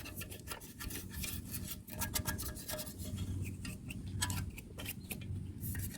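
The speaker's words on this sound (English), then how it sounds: "we'll go over it with some Scotch-Brite to try and get all these other loose debris up" A Scotch-Brite pad rasps in quick repeated strokes over a degreased engine part from an 1987 Trans Am LS swap, the scrubbing close and steady with brief pauses between passes and no talking.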